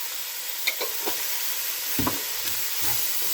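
Canned ingredients browning in a hot pan during soup preparation, a steady low sizzle with occasional scrapes and stirring knocks, heard alone at close range.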